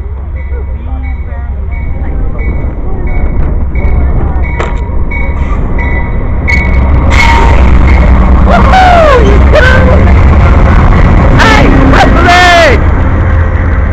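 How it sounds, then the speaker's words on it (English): An Amtrak passenger train rolls in on the line, a heavy low rumble building and holding loud, with squealing wheel and brake screeches rising near the end; voices talk over it at times. "Here comes our Amtrak train in."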